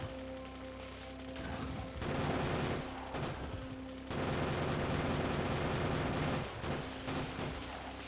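Turrets firing in the video game Factorio make dense, rapid bursts of gunfire that start and stop in several long stretches over a low mechanical hum, loud and with no talk.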